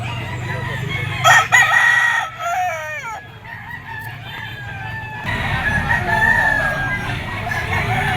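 A gamefowl bull stag rooster crows at a busy pet market, one clear crow followed by clucks and other fowl calls nearby over a constant crowd murmur.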